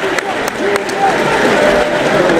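Crowd at a political meeting applauding after a speech, a broad sustained wash of clapping and crowd noise with a voice audible over it and a few sharp claps early on.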